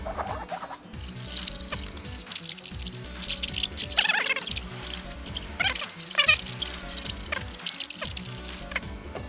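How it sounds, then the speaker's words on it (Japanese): Water rinses car shampoo off a wheel that was just washed with a sponge, a close, steady splashing and dripping patter with brief louder gushes, no talking. "ちょっと軽く洗い流します。"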